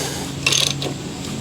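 A hand tool is cranked on a Willys Jeep steering wheel to pull it off, giving a brief burst of ratcheting mechanical clicks over a steady low hum, close and fairly loud.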